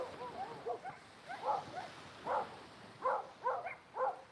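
Several dogs bark and yip in short bursts along a Mallorca seafront in Puerto Pollensa, the barks fairly close and irregular, rising and falling over a steady outdoor background.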